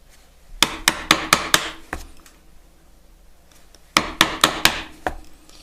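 A chisel being struck into wood to chop out dovetails, landing as a quick run of five sharp, loud mallet-like knocks, a lone hit after a pause, then another cluster of five after a quiet gap.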